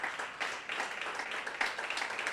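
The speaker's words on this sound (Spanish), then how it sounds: "Dar un aplauso al Señor." Congregation in a church service claps in praise, a brief, fairly faint burst of steady hand clapping with no voices on top.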